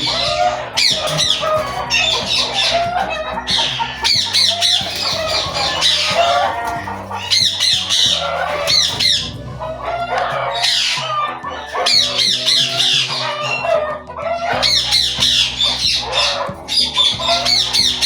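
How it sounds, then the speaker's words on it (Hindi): Chickens in a nearby shed squawk and cluck loudly and continuously, many birds overlapping in noisy bursts close by, with brief lulls between waves of calling. "ये साथ ही मुर्गियों का शेड है, तो वहाँ से भी कुछ आवाज़ें आना शुरू हो गई हैं"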